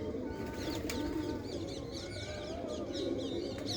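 A pair of white-eyed pigeons coo in low, continuous murmurs, with brief chirps from other birds scattered above and no talking.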